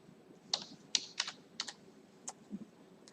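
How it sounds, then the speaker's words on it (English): Keys on a computer keyboard are tapped in a sparse, uneven run of about seven quiet, close clicks with short gaps between them. "so I'm typed here some letters"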